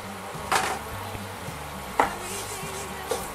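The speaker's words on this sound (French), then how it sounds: "et donc là on va cuire le roux" A roux cooks gently in a pan for a béchamel sauce, with a soft, constant sizzle broken by three distinct scraping strokes of a utensil stirring the pan.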